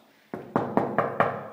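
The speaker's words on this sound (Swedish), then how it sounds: "Här ska vi knacka på." Five firm knocks on a door fall in an even, quick rhythm, close and solid, after a brief quiet moment.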